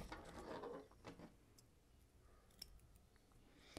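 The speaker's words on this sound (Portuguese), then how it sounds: "E aqui eu corto o meu elástico." Scissors snipping elastic for a crocheted pencil skirt, a short close rustle and cut followed by a couple of faint metallic clicks, quiet with room noise underneath.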